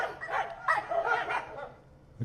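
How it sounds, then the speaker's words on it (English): Several dogs squabble in the street, a busy jumble of barks and yips tangled together at moderate distance, continuous for a couple of seconds before tapering off. "Dog street fight. Bunch of barking at each other."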